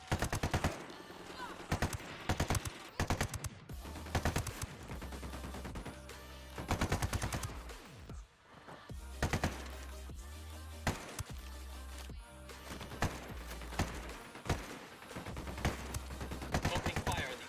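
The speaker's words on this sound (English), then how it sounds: "Opening fire on these fuckers." Dense automatic gunfire from a video game shootout, with rapid bursts and heavy volleys rattling almost continuously throughout, loud and close, while voices talk over the shooting.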